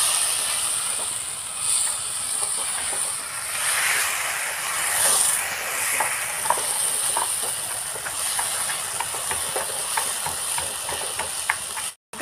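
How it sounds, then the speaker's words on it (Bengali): Sago (sabu) fries lightly in a pan with a steady, close sizzling hiss, broken by faint scraping taps as it is stirred. "সাবুটা দিয়ে দিচ্ছি। হালকা করে ভেজে নিতে হবে।"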